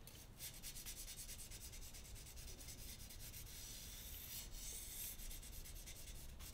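A slicer knife edge drawn along the outer edge of a whetstone, giving a rapid series of rhythmic scraping strokes, close and fairly quiet, with no voices.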